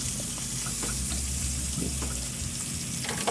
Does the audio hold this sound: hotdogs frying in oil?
yes